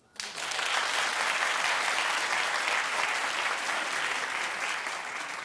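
A talk-show studio audience breaks into loud, sustained applause that starts abruptly and holds steady as a dense wash of clapping.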